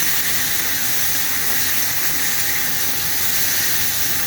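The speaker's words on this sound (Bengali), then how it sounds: "হালকা ভেজে নিচ্ছি।" Chopped ingredients with salt and ground green chili fry lightly in a pan, giving a loud, continuous sizzling hiss that holds steady throughout without speech.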